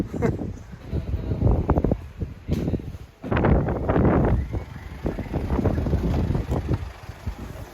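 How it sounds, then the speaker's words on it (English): Strong gusts of wind buffet the microphone outdoors in loud, uneven bursts with brief lulls. "I was going to record outside, but it's super windy."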